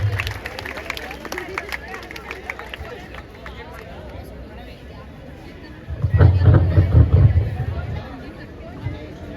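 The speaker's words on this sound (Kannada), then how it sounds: "ಇವರಿಗೆ ಜೋರು ಚಪ್ಪಾಳೆಯೊಂದಿಗೆ ಸ್ವಾಗತಿಸೋಣ" An audience at a college student awards function in Kanakapura claps to welcome two dancers; a dense crowd murmur with scattered clapping swells into louder, sustained applause for a few seconds before easing off.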